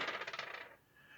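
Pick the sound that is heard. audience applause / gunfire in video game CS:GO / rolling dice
rolling dice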